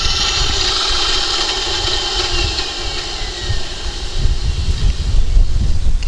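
A Heng Long German Tiger 1 RC tank, 1:16 scale airsoft model, plays its engine sound effect at shutdown: a loud, steady, rumbling idle with vibration that holds throughout without fading out.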